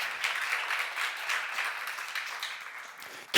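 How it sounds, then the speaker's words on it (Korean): A church seminar audience gives a burst of sustained applause, dense clapping from many hands filling the room, swelling and easing slightly before fading out, with a short loud sound at the very end. "박수로 하나 더 해주세요."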